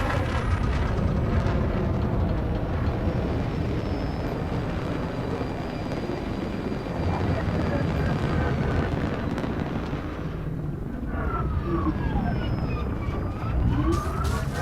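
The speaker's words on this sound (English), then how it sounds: "Afterburners engaged." Spaceship afterburners roar in a video game space-combat match, a loud, continuous engine rush with rising and falling whooshing sweeps near the end, steady and close throughout.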